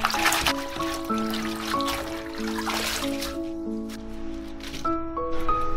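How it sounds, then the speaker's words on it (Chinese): Chinese kale (gai lan) rinsed under a running kitchen tap, with a steady trickle and splash of water over the leaves; background music plays throughout. "再来清洗一些芥蓝"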